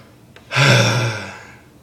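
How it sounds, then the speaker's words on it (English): A single sharp, breathy intake of air, close and fairly loud, rising quickly then fading over about a second, like a deep gasp used to begin a false cord scream. "It's going to be literally breathing."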